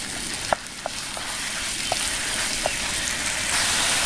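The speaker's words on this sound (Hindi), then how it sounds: "चिकन को खूब अच्छे से भूनने देंगे।" Chicken frying in a pan with browned onion and green chilli, a steady close sizzle with a few sharp spatters and pops, no voices.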